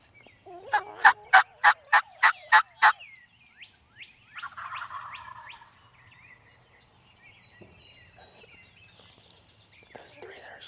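Wild turkey gobbling in a Pennsylvania spring season, a rapid burst of about eight loud gobbling pulses close by, followed by softer clucks and faint calls with quiet whispering voices.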